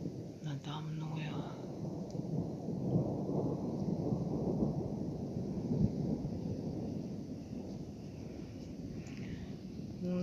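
Thunder from a late-summer storm rolls on as a low, continuous rumble, with a steady wash of rain or wind noise that never lets up.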